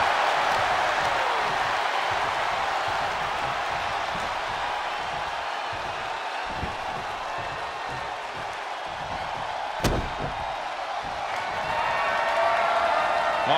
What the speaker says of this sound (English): What a raucous crowd here